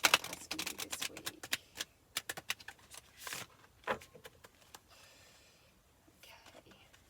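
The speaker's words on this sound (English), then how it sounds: "Let's pull a Wild Offerings Oracle card and see what message that has for you this week." Oracle cards from the Wild Offerings deck being shuffled, a quick flurry of close, crisp riffling flicks that thins out into softer handling sounds, with faint whispery background.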